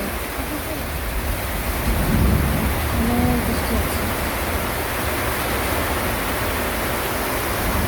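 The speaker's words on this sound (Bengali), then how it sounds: "অনেক বৃষ্টি হচ্ছে আমাদের এখানে" Heavy rain roars in a dense, loud wash throughout, with a low rumble of thunder swelling midway and a faint voice briefly audible beneath the downpour.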